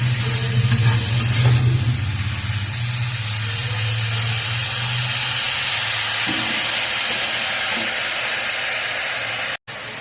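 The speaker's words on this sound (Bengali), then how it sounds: "এবার এটাকে খানিকক্ষণ নাড়াচাড়া করবো। ভাজা ভাজা হয়ে গেলে এটাকে নামিয়ে দেবো।" Mixed vegetables stir-fry in a pan, giving a loud, continuous hiss and sizzle with a low steady hum beneath and faint stirring scrapes, ending in a brief cutout; no voices.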